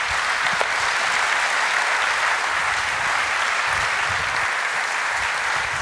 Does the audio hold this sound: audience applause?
yes